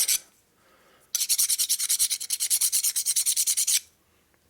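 A file scraping the high spots on the transmission gears of a 1961 Harley-Davidson Sportster XLCH during a rebuild, heard up close as a rapid, steady run of rasping strokes that starts and stops abruptly, with no talk.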